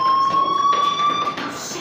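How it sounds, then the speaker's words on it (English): A fire alarm in the video game Life is Strange rings as a steady, high electronic tone against a background hum. It is brief and fairly loud, with no talk. "do you hear that fire alarm? That means you should be outside."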